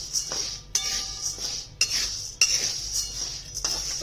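Sabudana (sago pearls) dry-roasted in a pan for potato papad, with a spoon scraping and clinking against the metal in a few sharp strokes over a steady hiss, close and fairly loud, without talk.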